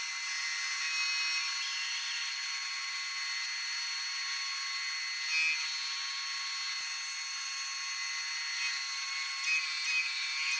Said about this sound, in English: I used a sanding disc on my homemade drill-powered lathe to sand most of the surfaces of all 8 ribs.